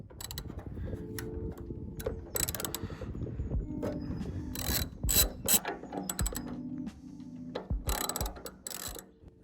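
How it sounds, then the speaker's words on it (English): A ratchet socket unscrewing the 10mm fuel-tank bolts on a Honda CB650R motorcycle: close, crisp bursts of rapid ratchet clicking with short pauses between strokes, no talking. "Unscrew the 2 10mm bolts holding down the tank using either a spanner or long socket."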